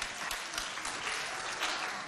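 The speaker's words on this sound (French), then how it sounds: "Applaudissez pour vous si vous voulez danser." An audience at a school performance event in Mao claps continuously, a full, dense burst of applause from a large crowd that holds steady throughout.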